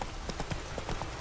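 Hooves of Roach, Geralt's horse in The Witcher 3, clip-clopping at a steady trot, a quick regular series of close, muffled hoofbeats over a dense background wash.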